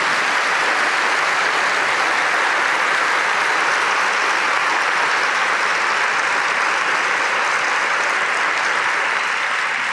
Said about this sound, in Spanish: Les pido un aplauso bien grande para esta gente